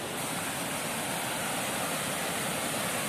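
A waterfall in Idukki, a dense, steady roar of rushing water heard close and loud throughout, with no gaps or other sounds.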